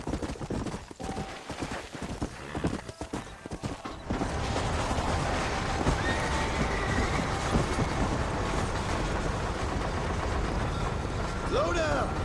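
Horse hooves clip-clop in a steady gait in Red Dead Redemption, moving at a walking pace under ambient game sounds, with a louder rumble of wheels or movement joining partway through.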